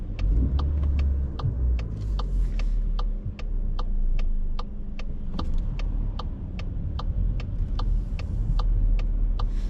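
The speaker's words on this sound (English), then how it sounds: "That car is coming with the signal." Cars pass a roundabout in Leeds near a driving test centre, a steady road and engine rumble heard from inside a vehicle, with a regular ticking indicator clicking throughout.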